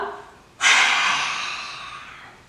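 One strong, airy exhale through a wide-open mouth with the tongue out, done as a lion breath exercise. The sharp breath starts suddenly and is close and clear, then slowly tapers off.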